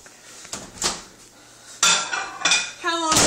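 Clattering dishes and cutlery in a kitchen while a dish of marshmallows is set into a microwave, with several clinks and a louder clunk near the end, and faint voices in the background.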